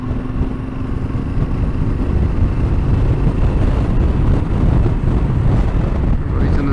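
A Yamaha Tenere 7 motorcycle rides through very windy Welsh countryside, its steady engine drone buried under constant heavy wind buffeting on the microphone throughout.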